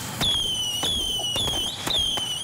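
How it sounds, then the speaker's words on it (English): Fireworks set off outdoors, several sharp cracks in quick succession with whistling, squealing tones riding over them, moderately loud and without talk. "Amber Cohen and her daughter demonstrating how to safely handle and set off fireworks."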